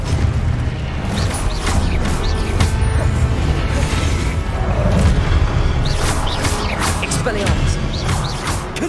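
Confringo spell blasts in Hogwarts Legacy go off in a dense run of explosive crashes and whooshes over a continuous low rumble, loud and close, with spoken incantations mixed in.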